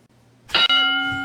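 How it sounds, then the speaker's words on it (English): A single bell is struck once and rings out with a bright, clear tone, sustaining and slowly fading in a room after a brief shuffle. "Ring the bell."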